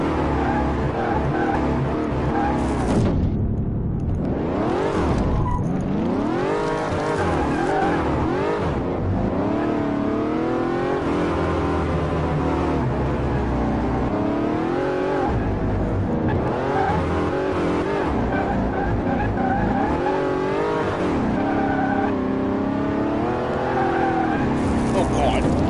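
A Maserati GranTurismo in the Car Mechanic Simulator game drives hard, with continuous loud engine revving, shifting pitch and tire squeals throughout. Someone talks over it.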